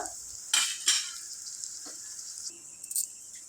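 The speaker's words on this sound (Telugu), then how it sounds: "ఆనియన్స్ గోల్డెన్ బ్రౌన్ కలర్లో ఇలా వచ్చేదాకా ఫ్రై చేసుకుందాం" Onions sizzle in hot oil while frying golden brown for mutton biryani, with a few bright bursts of spattering and utensil scrapes as they are stirred, close by and without talk.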